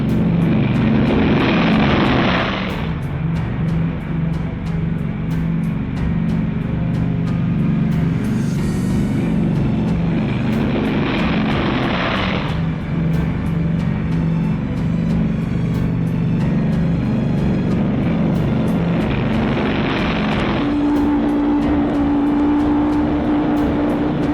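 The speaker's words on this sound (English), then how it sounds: "B-29 takeoffs are a tough sweat." Several B-29 bombers' propeller engines drone in a loud, continuous roar during takeoff, swelling and fading in three or four waves as each plane goes by.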